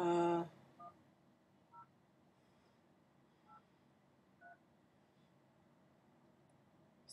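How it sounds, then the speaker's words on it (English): A burst of loud keypad beeps opens, followed by several short, faint dialing tones spaced irregularly over quiet background hiss. "Let's call Sarah now."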